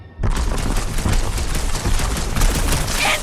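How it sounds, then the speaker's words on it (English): Gunfire in Marvel's Guardians of the Galaxy breaks out suddenly as a loud, continuous barrage of rapid shots and blasts that keeps up for several seconds. "Incoming fire!"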